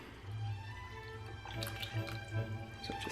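Water being poured into flour for a sourdough starter, a soft trickling pour with light drips, faint and close.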